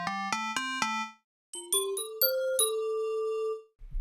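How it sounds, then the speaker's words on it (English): A bell synth patch from the Roland Zenology Pro software synthesizer plays a few quick rising bell notes, then a pause, then a brighter rising run of chiming tones that rings out and fades, clear and alone. "Then you have synth patches from bells,"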